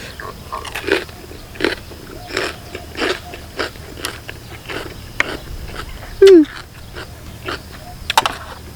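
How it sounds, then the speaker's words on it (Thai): Crisp cabbage being bitten and chewed outdoors in a rice field during a grilled-meat meal, a series of close, rhythmic crunches about once a second, with a brief voiced sound and light background noise. "พักกระหล่ำมันกรอบเนี่ยกรอบดีครับ"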